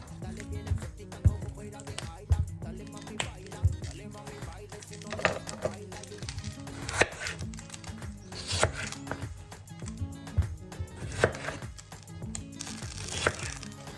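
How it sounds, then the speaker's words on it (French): Knife cutting tomatoes into quarters on a board while onions fry, for a slow-cooked chocolate chicken stew; close, regular chopping taps spread across the whole stretch over a low kitchen background. "Pendant que les oignons rissolent, je vais m'occuper des tomates et les couper en 4."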